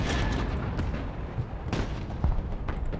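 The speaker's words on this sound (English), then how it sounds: "Global artillery ready." Artillery fire in the war game Broken Arrow: a few booming impacts and blasts spaced over a few seconds against a dense rumbling battle background.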